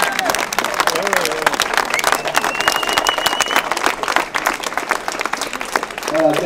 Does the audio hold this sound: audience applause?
yes